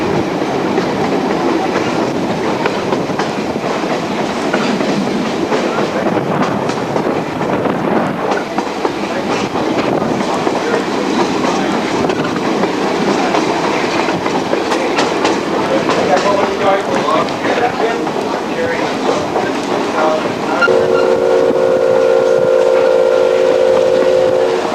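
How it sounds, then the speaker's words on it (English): Steam locomotive of the STCR No 9 line chugging along steadily with continuous rumble and rail noise, a sustained whistle tone sounding near the end, heard close from aboard the train. "The smoke is laying up over top of the train"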